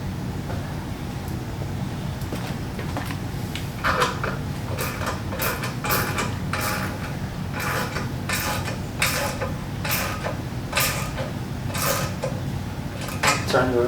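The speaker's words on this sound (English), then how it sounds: "I'll crank down on this with a socket wrench until it feels nice and tight." Socket wrench cranking down the nuts on toilet wax ring bolts, giving a run of short metallic clicks and creaks in bursts, close by over a steady low background hum, with no talking.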